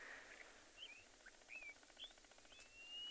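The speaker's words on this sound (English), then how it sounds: "If you got that background sound, there was a clapperlark that was calling again." Faint, quick bird calls from a clapper lark chirp several times in the distance, thin and high against a quiet background hiss on a sunset safari at Tswalu.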